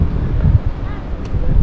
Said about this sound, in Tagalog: Kakaiba talagang hangin dito sa Tagaytay